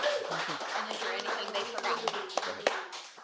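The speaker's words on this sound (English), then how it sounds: "So give Lillian and Mike a big round of applause." Audience applause for two guests on a recovery talk show, a light spatter of hand claps mixed with chatter and background talk, moderately loud for a few seconds.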